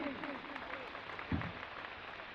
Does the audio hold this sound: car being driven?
no